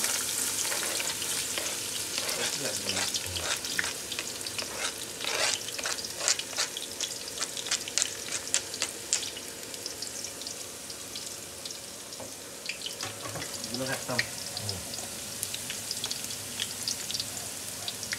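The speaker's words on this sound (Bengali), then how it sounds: "এবার চপ রসুন আমরা দিয়ে দিচ্ছি গরম তেলে।" Chopped garlic sizzling in hot oil for a salmon biryani and duck curry, a soft continuous crackle dotted with sharp pops and occasional stirring scrapes, close and fairly quiet with no talking.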